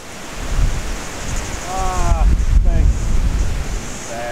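Steady wind blows across a seaside golf course by the ocean in New Zealand, a continuous broad rush with gusty swells, buffeting the microphone loudly, with a voice speaking briefly partway through.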